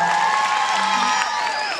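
An audience applauds and cheers loudly and continuously, with whoops, voices and sustained musical tones running through the crowd noise.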